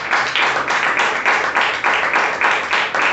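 A church congregation claps together in a loud, rhythmic round of applause during a worship service, the claps falling in a regular beat with distinct pulses about every third of a second.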